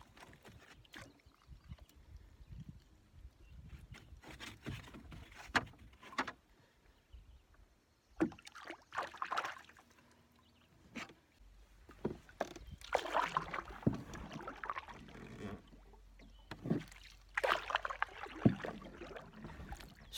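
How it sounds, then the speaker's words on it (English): Canoe paddling on a backcountry lake in Ontario, quiet close-up paddle strokes and water swishes in irregular bursts, with soft knocks against the hull and no talking. "Been paddling for a few hours."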